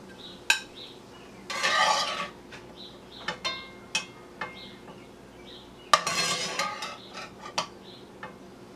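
A utensil scrapes and clinks against a pan and plate while cooked sausages and peppers are served out, scattered sharp knocks and two longer scraping passes.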